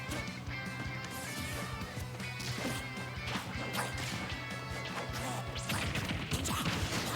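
Down smash attacks landing in a Super Smash Bros tournament match, a dense run of sharp hits and crashes layered over constant game music and crowd noise, steady and loud throughout.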